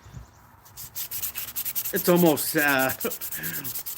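Repeated rhythmic strokes of sandpaper rubbing on hard beech wood, close and scratchy, with a voice briefly talking partway through.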